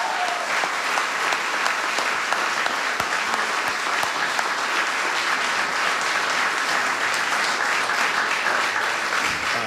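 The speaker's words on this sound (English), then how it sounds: "That's worth a big round of applause." A sustained round of applause fills a room at the White House, dense and steady clapping from a large crowd lasting nearly ten seconds without pause.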